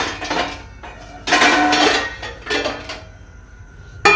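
Boiled potatoes being scooped into a bowl in a kitchen, a few close clanks and scrapes of utensil against dish in short bursts, with quieter handling between them.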